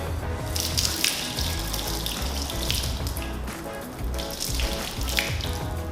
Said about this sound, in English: you're that guy that poured boiling water on your Hellcat